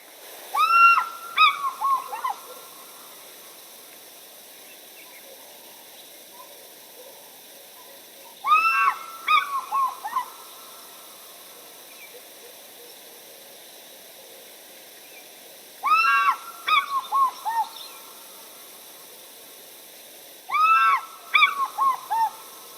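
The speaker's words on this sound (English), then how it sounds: "one last sound here of the African fish eagle" An African fish eagle gives loud, ringing, yelping calls in four separate bursts spaced several seconds apart, each a quick series of descending cries over a quiet background hiss.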